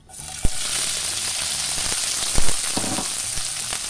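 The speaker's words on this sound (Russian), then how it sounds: "И это все будем сейчас обжаривать на сковороде." Steady sizzling of peppers frying in hot oil in a pan, with a few soft clinks and scrapes of stirring.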